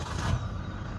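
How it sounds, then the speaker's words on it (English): A Toyota Innova Crysta 2.4 VX diesel from 2019 comes to life with a push-button start, giving a close, loud burst of engine clatter at the instant of ignition that settles into a steady diesel idle. "you can just hear the sound of the ignition once"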